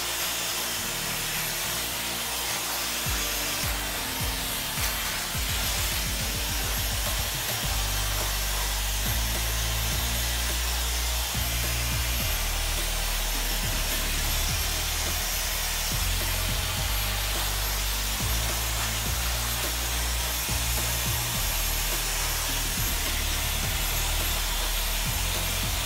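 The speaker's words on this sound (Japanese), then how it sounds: "ではドライヤーをかけていきます。" A hair dryer blows steadily on short layered hair in a salon, a continuous loud whooshing hum with no speech.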